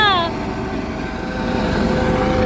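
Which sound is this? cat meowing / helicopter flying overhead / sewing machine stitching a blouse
helicopter flying overhead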